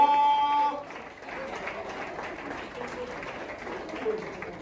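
Wedding guests applaud in a hall during a religious marriage ceremony, a dense steady wash of clapping across the room after a brief tonal musical note at the start, moderately loud throughout.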